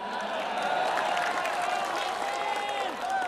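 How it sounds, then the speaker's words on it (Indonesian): Loud, sustained crowd applause and cheering at a political coalition gathering greets the Gerindra chairman, a thick wash of clapping with shouting voices mixed in. "Tepuk tangannya dahsyat penuh rasa cinta."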